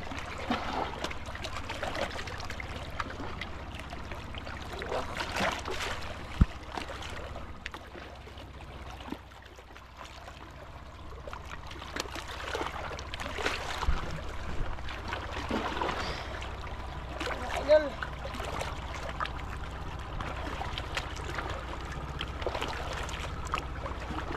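A small boat passes on water, with gentle sloshing and trickling along the hull and a faint low hum throughout.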